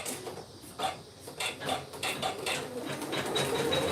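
An embroidery machine stitches a clutch held in the hoop, giving a steady mechanical whir with rapid needle ticks and small clicks that runs for the whole span at moderate volume.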